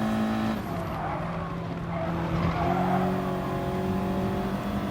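An Audi TT in a racing video game holds a steady, loud engine drone as its wheels spin and skid, with the pitch shifting slightly through a continuous run and no voices.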